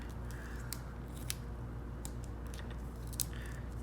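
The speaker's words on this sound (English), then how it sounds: "we are going to just adhere those with some Scotch tape" Scotch tape being torn and pressed onto two 10-inch fabric sides for a quilted wall hanging, giving a few short, crisp snaps and rustles over a steady low background hum.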